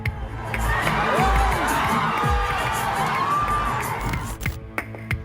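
A large crowd of Junior NTR fans cheering and whooping at an event, a dense continuous roar of voices and high shouts that stays loud throughout.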